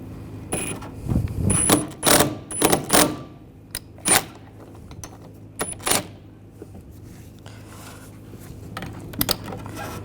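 Puller tightened on a front strut from a 2009-2017 Volkswagen Tiguan: metallic ratcheting clicks and clanks of tool on steel in close bursts, then sparser knocks.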